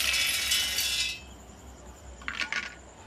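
Peeled peanuts and chickpeas tipped into a mixer jar: a bright rattling pour for about a second, then a quiet gap and a couple of close hard clinks.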